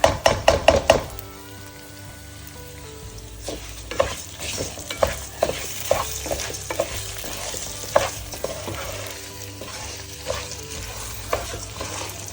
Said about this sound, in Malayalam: നല്ലോണം അരി ഈ നെയ്യിൽ വറുത്ത് വരണം